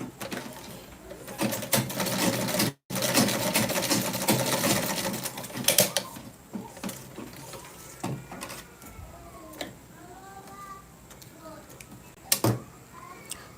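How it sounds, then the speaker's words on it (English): A home sewing machine stitches a white pleated sutan garment, its fast mechanical whirr running loud and steady for several seconds before stopping, then short bursts with quieter pauses; birds coo faintly in the background. "stitch on your sewing machine"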